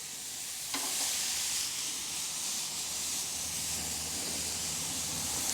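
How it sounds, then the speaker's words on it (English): Steady, close-up sizzling of Korean BBQ short ribs on a hot grill, a continuous crackling hiss with a brief sharp pop near the start. "You hear that sizzle."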